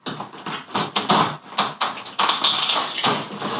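A blade slices open the cardboard flap of an Infinix X1 Android TV box, giving a quick run of close, crisp scraping and tapping strokes.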